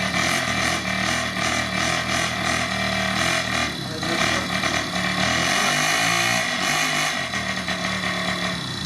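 A Honda Monkey motorcycle with an expensive full-CNC build runs right after starting, a loud, close, raspy engine note that holds steady and then wavers as the revs rise and fall.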